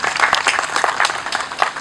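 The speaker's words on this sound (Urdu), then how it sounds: "بہت میرے خیال میں اس کے لیے بڑی تالیاں ہونی چاہیے ان کے لیے." A seminar audience at a university World Diabetes Day event applauds with dense, steady clapping that carries through without pause, fairly close and loud.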